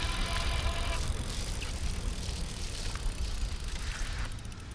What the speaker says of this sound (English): I think I'm going to just hop on and pedal for a minute.